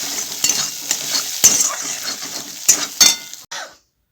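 Leftover rice frying in refined oil and butter in a pan gives a soft sizzle under a spatula's scraping and several sharp metallic clinks, close and fairly loud, before the sound cuts off abruptly.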